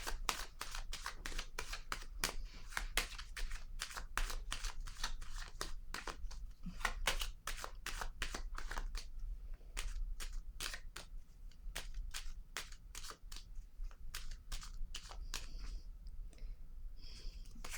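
Tarot cards are shuffled and drawn close up: a steady run of crisp, rapid card-snaps and riffling clicks, quiet overall with no talking.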